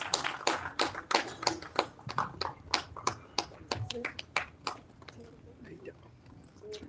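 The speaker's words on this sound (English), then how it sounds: "loud round of applause." A small press-meet crowd in Kochi welcomes actor Vishnu Vishal with sparse, crisp individual hand claps at an uneven rhythm, close and distinct, fading toward the end as a few voices murmur quietly in the room.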